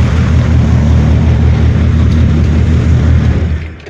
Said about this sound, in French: le régime moteur est bas, puisque j'ai mis au plus bas le papillon.